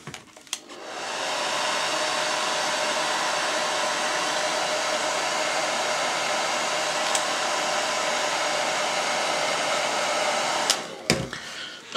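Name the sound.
hair dryer blowing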